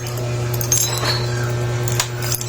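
Keys for a Suzuki Raider J 115 FI motorcycle jangling as they are handled, light metallic clinks scattered over a steady low hum, close and fairly quiet.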